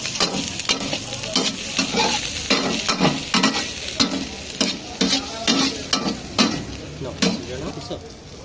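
Beef stir-frying in a pan with red and green capsicum, cabbage and processed mushrooms, sizzling steadily under repeated spatula scrapes and stirs at a near, even rhythm, with no talk.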